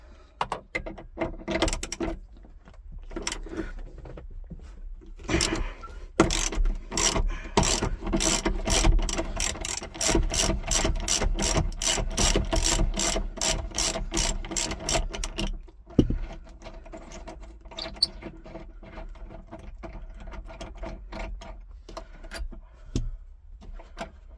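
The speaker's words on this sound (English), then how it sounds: "then there's a 17mm nut to undo to get the seat belts off" A hand ratchet clicks in quick, steady runs while undoing a 17mm nut on an Audi A3 8P seat belt mount, close up, with pauses and a few scattered clanks.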